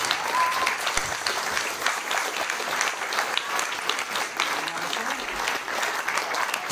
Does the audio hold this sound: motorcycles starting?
no